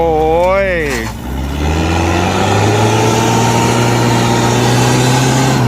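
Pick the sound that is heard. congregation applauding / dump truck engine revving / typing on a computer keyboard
dump truck engine revving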